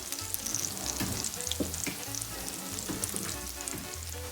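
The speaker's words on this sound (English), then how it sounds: "When it starts to sizzle, that means it's hot enough." Latkes fry in hot oil with a steady, crackling sizzle and scattered pops, close and continuous throughout.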